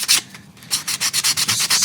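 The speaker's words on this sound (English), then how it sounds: "Just sanding off the tiniest amount so that the result is the subtlest of taperers." A small wooden bowtie inlay for a slab tabletop is sanded by hand, a rapid run of short rasping strokes, close and loud, in a steady back-and-forth rhythm with a brief pause early on.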